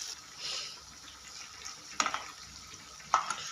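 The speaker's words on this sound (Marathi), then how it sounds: "तेल सुटेपर्यंत छान मसाला होऊ दे।" Masala paste frying in oil in a pan for a khima kaleji dish, a steady soft sizzle with a few sharper clinks and scrapes of stirring, close and fairly quiet, no talking.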